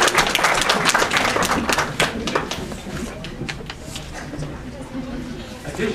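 Public audience applause at a school district board of trustees meeting, many hands clapping densely at first, then thinning and fading, with voices chattering underneath.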